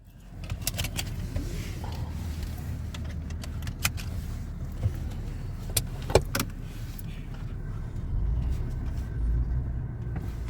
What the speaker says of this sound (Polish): Ja to sobie zawsze właśnie przy otwartych drzwiach odpalam.